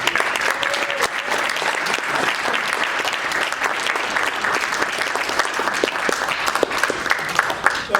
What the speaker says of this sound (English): let's give Chris a big round of applause